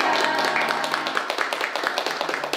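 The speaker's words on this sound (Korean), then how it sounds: "저희 스스로 모두 다 같이 박수 치면서 이 자리를 마무리하고 싶어요" A group at a school parent-teacher meeting claps together to close the gathering, a steady series of close hand claps mixed with voices.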